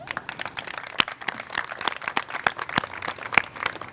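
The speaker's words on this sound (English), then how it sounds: "giving a huge round of applause to your boss and my friend and our county executive" An audience applauding at a county government event on Ellicott City flood mitigation funding, a steady patter of clapping from a modest crowd.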